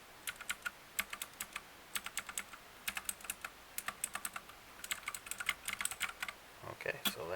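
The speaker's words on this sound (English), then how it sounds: "let's go ahead and hear what the keys sound like" Rapid, crisp clicking of a Magic-Refiner MK14 compact mechanical gaming keyboard, many distinct taps in quick uneven bursts, close and clear.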